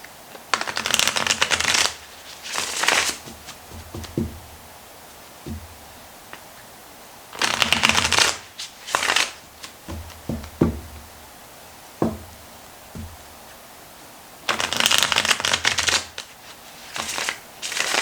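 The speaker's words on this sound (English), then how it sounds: "Shuffle." Tarot cards are shuffled by hand at close range during a fire-sign reading. Three long riffling bursts are separated by sharp taps and knocks as the deck is squared and set down.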